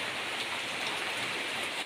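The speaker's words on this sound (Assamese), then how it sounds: "দেখিছেনে বৰষুণ দিলে মানে একেবাৰে ভালকৈ দিলে, জোৰতে দিলে হৈছে।" Heavy rain pours down on a dark morning, a dense, steady roar of drops hitting surfaces that stays loud and unbroken throughout.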